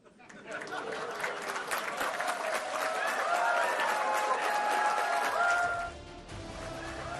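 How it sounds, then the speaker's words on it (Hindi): A political rally crowd applauds steadily throughout, dense clapping close and loud, with a few high whistle-like tones rising over the noise. "सीटियां बजने लगी, तालियां तो लोग पीट ही रहे थे।"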